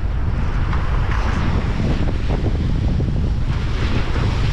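Strong ocean waves and gusting wind at sea around a small fishing boat in rough water, a steady loud roar of surf and wind buffeting the microphone throughout, with no voices.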